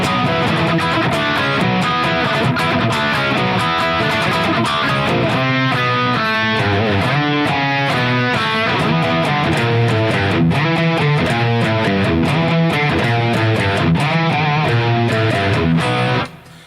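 Distorted electric guitar through an AFS 100 Marshall amp, playing a dense rock riff with fast repeated notes and chords, loud and continuous for about sixteen seconds before cutting off, with no talking.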